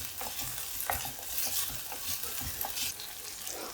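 Ginger and green chillies sautéing in a pan, a steady close sizzle with scraping stirs of a spoon, alone and fairly quiet.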